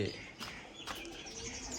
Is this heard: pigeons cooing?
yes